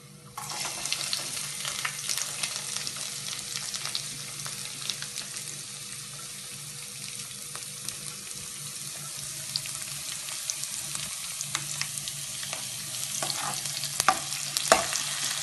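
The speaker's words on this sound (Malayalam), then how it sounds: "ഇനി നമുക്ക് ഇതിലേക്ക് എടുത്തു വെച്ച വെജിറ്റബിൾ ഇടാം." Vegetables fry in a pan with a steady soft sizzle while a utensil stirs and scrapes them in brief clinks, quiet and close, with no talking.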